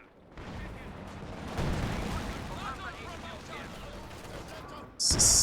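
An artillery barrage rumbles through a real-time strategy video game as a steady run of booming blasts and distant crackling fire, ending in a sudden sharp, bright burst.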